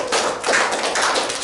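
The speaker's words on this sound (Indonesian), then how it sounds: "Tepuk tangan dulu dong." Classroom applause from a group of students, steady dense hand clapping throughout, fairly loud and close, with no voices over it.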